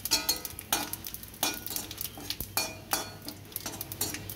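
Cumin seeds sizzling in hot oil in a pan alongside dried chilli and bay leaf, a soft frying hiss broken by repeated clinks and scrapes of a metal spoon stirring against the pan, close and fairly quiet.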